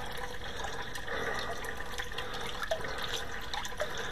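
Water sloshing and dribbling as a slotted spoon rinses Gammarus scuds into a pail at a creek, a steady close wash of liquid with small drips over a constant background.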